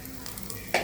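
Whole spices, cloves and cinnamon with fennel seeds, fry in hot oil for a parotta salna gravy, a brief close sizzle with a sharper burst of crackle at the end.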